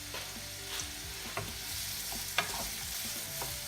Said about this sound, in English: We're just frying them off